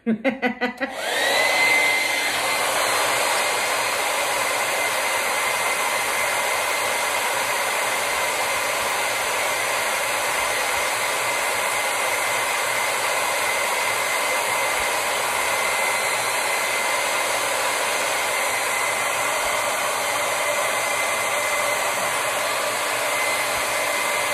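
A hair dryer drying paint on a star-shaped craft switches on with a brief clatter, then roars as a loud, steady whine that continues unbroken.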